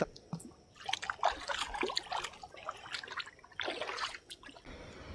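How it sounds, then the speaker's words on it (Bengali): Feet wade through shallow water outdoors, irregular splashing and sloshing steps close by, some quiet gaps between them, with no speech. "এই জায়গাটা যেতে হলে একটু আমাদের জলের উপর দিয়ে যেতে হবে"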